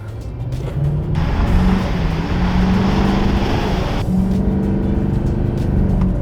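A Chevy 2500 pickup with the 6.6L Duramax L5P diesel accelerating at full throttle in four-wheel drive, a loud rising engine roar with whining gear tones that surges, shifts once and keeps pulling close by.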